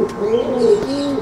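Pigeons cooing close by in a Cuban pigeon-keeping setting, a steady run of soft, throaty rolling coos overlapping one another with no talk.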